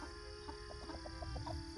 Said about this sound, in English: I have barefoot chickens running through the garden today.